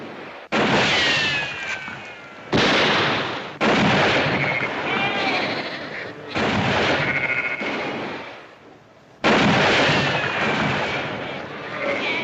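Gunshots ring out in a western shootout from a 1959 Bonanza episode, a series of loud, sharp blasts each followed by a lingering ricochet-like tail, fired every couple of seconds.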